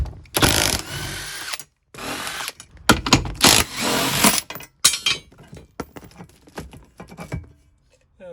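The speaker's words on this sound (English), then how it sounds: "we're just going to unbolt it and use the same bolts to bolt our slider on there" Bursts of a power tool loosening bolts on a seat bracket during a Honda Element camper build, loud intermittent whirring spurts separated by short pauses and clicks, with no talking.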